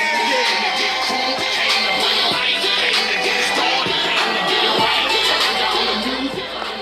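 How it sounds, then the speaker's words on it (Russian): An audience gives Yerzhan a loud, sustained round of applause. Dense clapping with sharp individual hits and a faint crowd murmur continues from start to end. "Ержан, ваши аплодисменты!"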